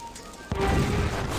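A cannon fires in a Monkey Island video game, a sudden deep boom that rumbles on loud and close for about a second after a quiet lead-in.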